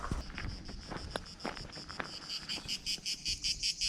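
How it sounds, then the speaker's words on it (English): Very loud insects in Croatia chirping in rapid pulsing bursts, a shrill rhythmic buzz repeating close by over quiet outdoor background. "They've got these very loud bugs here."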